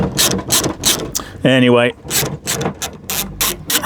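A ratchet clicks in quick, repeated bursts while removing the bolts of a Vauxhall Corsa D third brake light, heard close up between and around short bits of speech.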